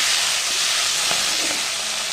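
Chopped onion and potato sizzle loudly in a pan while being stirred, a steady close hiss with a few soft scraping stirs.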